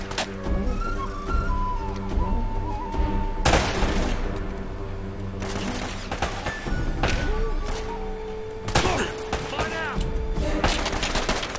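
Gunfire rings out in the video game Uncharted: Drake's Fortune, bursts of shots and sharp booms punctuating a dense game soundscape with steady background tones, several loud volleys spaced across the stretch.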